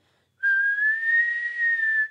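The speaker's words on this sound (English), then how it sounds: "To whistle higher, you're going to actually raise the back of your tongue a little bit." A single sustained whistled tone, clear and fairly loud, holding a steady high pitch that drifts slightly upward for about a second and a half.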